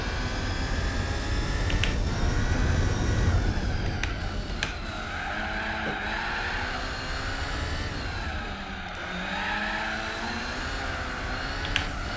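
Race car tires skid and squeal through understeer in Gran Turismo 4, a continuous loud engine drone with shifting tonal whine running steadily throughout.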